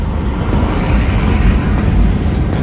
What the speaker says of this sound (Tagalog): Ingay ng mga sasakyan kasi nakabukas ako